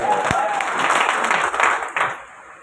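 Audience applause in a seminar hall, steady dense clapping for a few seconds with some voices mixed in, tapering off at the end.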